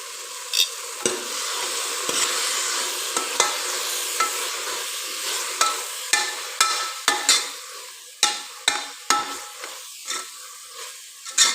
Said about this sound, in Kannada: ಟೊಮಾಟೊ ಒಳ್ಳೆ ಫ್ರೈ ಐತಿಗಳ ಈಗ ನುಗ್ಗಿ ಸಪ್ಪಾಯಿ ಹಾಯ್ಕಂತಿದ್ದೆ